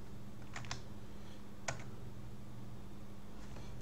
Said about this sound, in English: So if I'm typing